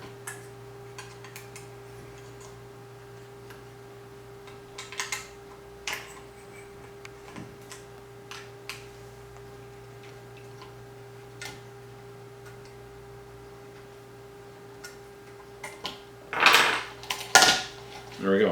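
A loose blade clamp on a Wicked Edge knife sharpener is being tightened, giving scattered small metallic ticks and clicks over a quiet hum, with a few louder clanks near the end.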